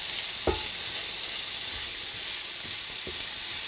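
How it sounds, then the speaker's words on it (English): Onions fry in a pot with a steady, bright sizzle throughout, broken by a few soft scrapes and knocks of stirring, close and unaccompanied by talk. "could you maybe go and stir the pot with the onion a little bit, please?"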